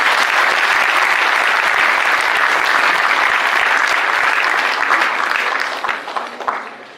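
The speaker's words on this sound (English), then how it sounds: "So can we again have a big round of applause for them?" Loud, dense audience applause for a young startup team at a college entrepreneurship summit expo, sustained steadily before thinning out and fading near the end.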